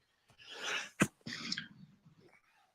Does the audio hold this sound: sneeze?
yes